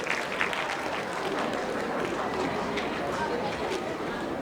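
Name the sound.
students clapping for themselves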